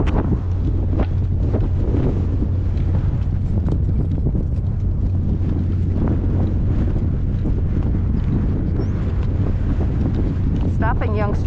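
Strong gale force wind buffets the microphone continuously in an open outdoor setting during a storm where young horses are being worked, a loud steady roar and rumble throughout with faint voices underneath.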